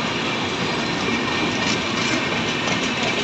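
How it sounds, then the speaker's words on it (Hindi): A train bound for Patna at Mirzapur railway station in India, its steady rolling rumble and wheel noise loud and close, continuous throughout with no voices. "पटना को जाने वाली ट्रेन है मिर्ज़ापुर से"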